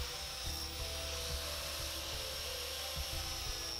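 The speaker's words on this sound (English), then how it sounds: "hooked the carver up to my shop vac, and carefully started shaping the wood" Arbortech Mini Carver shaping pine wood with a shop vac attached: a steady, dense grinding whir under the vacuum's constant roar, with a few rhythmic scraping pulses as the blade bites, close and without talk.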